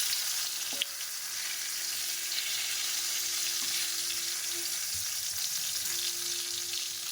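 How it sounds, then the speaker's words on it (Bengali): Brinjal slices fry in a pan, giving a steady close sizzle with faint stirring and an occasional soft knock, with no talk. "আজকে বেগুন ভাজা করছি"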